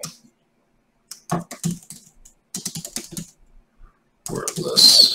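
Computer keyboard typing comes in short bursts of quick close clicks separated by pauses, with a louder flurry of keystrokes near the end.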